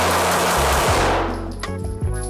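Rapid burst of pistol fire from a SIG P365XL, loud and close, shots running together for about a second, then ringing decay and a couple of trailing reports.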